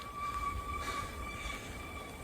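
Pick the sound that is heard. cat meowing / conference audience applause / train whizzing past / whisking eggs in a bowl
train whizzing past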